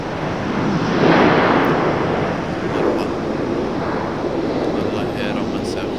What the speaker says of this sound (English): Nope, it was the JetBlue A220.